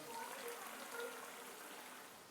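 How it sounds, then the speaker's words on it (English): Water being poured into a chicken karahi pan, a faint continuous trickling splash held steady for a couple of seconds with no other sounds. "So I'm adding a bit of water."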